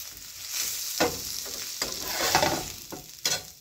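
Salmon in a pan of sizzling chipotle sauce is stirred, with a soft steady fry under scraping spoon strokes that come in irregular pulses.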